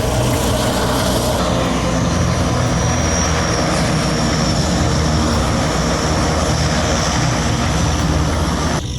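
Propeller aircraft engines drone loudly at Juba airport, a dense, continuous roar with a rising whine nearby, filling the whole stretch without pause.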